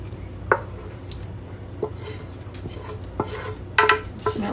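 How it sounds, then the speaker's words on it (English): Sausage and zucchini tipped into a pan for a breakfast casserole, giving a series of scattered clatters and soft thuds of food and utensils against cookware, moderately close with no talking. "I'm going to go ahead and pour our sausage and zucchini"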